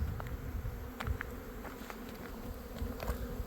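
Honey bees swarm around active hives in an almond orchard, giving a dense, continuous low buzz with individual bees whizzing close past now and then.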